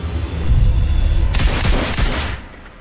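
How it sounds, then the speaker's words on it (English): Gunfire in a film trailer, a loud rapid fusillade of shots bursting in quick succession over a rumbling low backdrop, then fading out. "Shots fired in the embassy."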